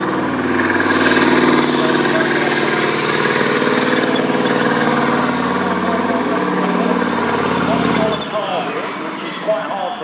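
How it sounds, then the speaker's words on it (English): The engine of a Leopard tank on display at a military show runs at a steady idle, a loud low rumble that continues until it drops away near the end, with people talking over it. "This is the Leopard tank"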